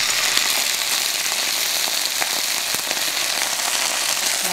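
A spoonful of water hits hot oil with scallion and jalapeño, bursting into loud, dense, continuous sizzling and crackling that stays steady throughout, with no voices.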